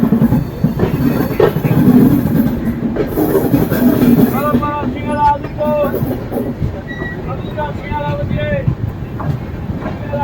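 Aboard the 12821 Shalimar-Puri Dhauli Superfast Express at speed, a constant heavy rumble of the running train with clacking wheels and a thin wheel squeal, while voices chatter indistinctly in the carriage.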